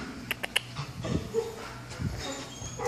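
Puppies in kennels alongside labs, giving short faint whimpers and yips with some clatter in a room, a person speaking briefly over them.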